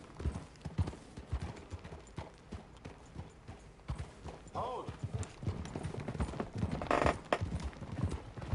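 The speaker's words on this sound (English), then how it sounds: "I got a big ass horse now." Steady clip-clop of horse hooves at a walking pace in Red Dead Redemption 2, with someone talking over them and a brief horse snort or whinny partway through.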